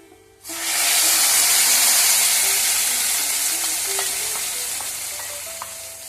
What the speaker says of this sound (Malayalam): ആ ചൂടിൽ കിടന്ന് ഉള്ളി വറവായിക്കോളും